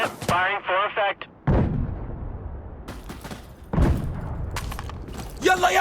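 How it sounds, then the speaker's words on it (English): Explosive artillery strike in the multiplayer shooter Insurgency Sandstorm: heavy booming blasts land in bursts with rumbling decay, loud and close, alternating with radio-style voices and shouting players. "Call for fire. Explosive artillery on this target."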